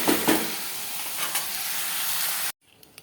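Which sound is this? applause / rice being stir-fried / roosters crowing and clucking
rice being stir-fried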